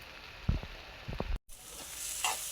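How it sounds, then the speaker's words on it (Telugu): Amaranth leaves (thotakura) frying dry in a pan, a faint steady sizzle with a few low scraping stir sounds and a brief cut midway. "నేను ఉట్టి ఫ్రైయే చేస్తున్నానండి"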